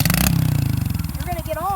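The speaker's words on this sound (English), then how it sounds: "We're going to start this bike for you, man." Dirt bike engine starting: a fast, rough mechanical chatter that settles into a steady pulsing idle over under two seconds, close and loud, with a voice briefly over it.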